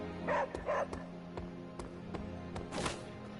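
A pet puppy named Charlie lets out two quick yips close by, followed by a few light taps and a soft whimper in an otherwise quiet room.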